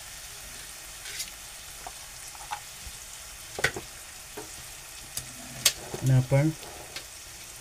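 Onion and tomato with turmeric sautéing in a pan give a quiet sizzle broken by spoon scrapes and clatters, and a voice speaks briefly near the end.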